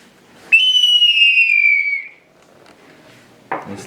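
Handmade Veracruz clay pottery whistle imitating an eagle: one loud, piercing shriek that slides slowly downward in pitch for about a second and a half, then silence before a short breathy burst.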